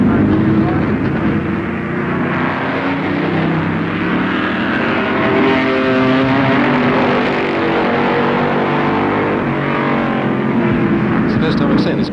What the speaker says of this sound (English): Make quite an impressive motor racing sort of noise, good sharp crisp four-cylinder noise.